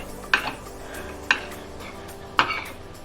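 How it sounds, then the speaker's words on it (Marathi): Spoon scraping and knocking against a pan while jowar-bajra flour is stirred and roasted with oil for ukadpendi, three distinct metallic clinks spaced about a second apart over a quiet background. "थोडंसं आपण परतून घेऊयात असं थोडं तेलाबरोबर असं थोडंसंच परतायचं"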